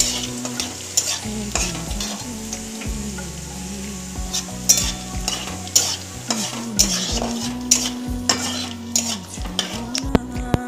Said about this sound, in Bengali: তারপর কাজু আর কিশমিশগুলো ভেজে তুলে নেব